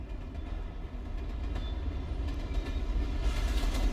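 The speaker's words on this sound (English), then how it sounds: "Oh no, that's a train." A train passes in the video game Alan Wake as a low, steady rumble that builds in loudness over a few seconds, accompanied by a faint rattling clatter.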